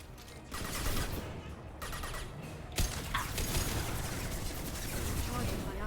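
Gunfire and combat noise in the Mass Effect 2 Legendary Edition video game, a dense continuous barrage of rapid shots and mechanical clatter under a voice that talks throughout.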